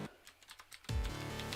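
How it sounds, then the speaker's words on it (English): Rapid clicks of fingers typing on a computer keyboard, a quick, uneven patter of close, light keystrokes for under a second, then cut off by a louder, sustained sound. "let's type it in"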